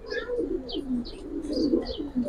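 Pigeons in a loft coo repeatedly in close, lively overlapping calls, low throaty rolls punctuated by higher chirps and wing-shuffling restlessness, loud and continuous throughout.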